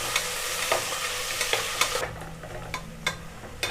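Onions frying in oil for vegetable biryani, a close, continuous sizzle broken by brisk spoon scrapes and stirring clatter at an uneven pace, the hiss easing slightly toward the end.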